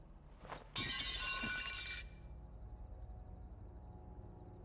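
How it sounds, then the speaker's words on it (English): A glass panel shatters in Sniper Elite 4, a loud sudden crash of breaking glass lasting about a second after a faint thump, then quiet game ambience with a soft repeating tick. "Oh, yeah, okay, the glass is broken."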